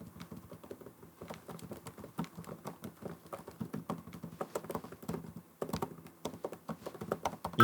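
Fingers typing on a laptop keyboard, set beside a low-noise Daiso Bluetooth keyboard, giving a steady stream of soft, quick clicks and taps close up with no talking.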